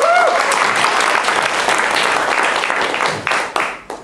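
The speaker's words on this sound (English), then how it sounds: "Give me a round of applause." A loud, sustained round of applause and cheering from a Los Angeles crowd at an opening welcome, dense throughout and tapering into a few scattered claps at the end.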